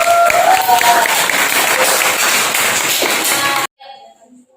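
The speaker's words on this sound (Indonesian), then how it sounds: "Tepuk tangan dulu buat kita semua." A classroom of students claps together in a loud, close burst of applause, with voices mixed into the clapping. After a few seconds the applause cuts off abruptly and brief quieter sounds follow.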